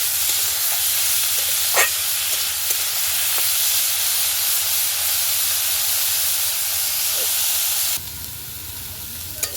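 Drained cauliflower pieces fry in hot oil in a pan, giving a continuous loud sizzle with a few sharp clinks from stirring. The hiss drops noticeably near the end.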